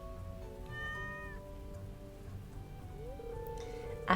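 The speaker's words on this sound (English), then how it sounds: "You see this cat here?" A stray cat meowing on a Stardew Valley beach farm: a couple of short, tonal mews over a soft, ambient game music bed, ending with a brief louder blip.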